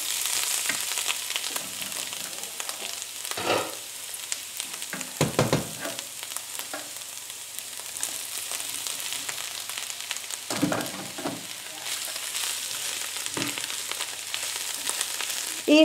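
Potatoes sizzling and frying with onion in a pan, a continuous hiss broken by several bursts of stirring and scraping.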